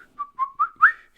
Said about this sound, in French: Et on peut voir qu'il siffle.